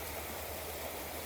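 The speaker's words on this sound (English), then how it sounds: "you're going to hear water, like right now. There's a creek in the background here." A creek flows somewhere in the background, a steady broadband wash of moving water that stays soft and even throughout with no voices over it.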